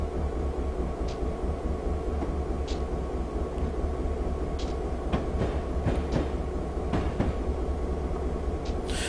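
A Norfolk Southern GP38-2 high-hood diesel locomotive running in Train Simulator on the NS Coal District route, with a loud continuous engine drone and scattered clicks and clanks of rolling stock over the top.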